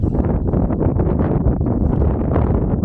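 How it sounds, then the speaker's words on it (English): Strong wind blows outdoors on a cold day, buffeting the microphone with a loud, steady roar and rumble throughout, heard alone. "Wind's blowing pretty good."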